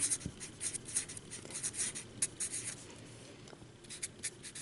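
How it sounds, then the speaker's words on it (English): A pen or marker scratches steadily across a writing surface as a chemistry exam question is written out, with soft continuous strokes and small taps, close and faint with no talking. "let me write the question"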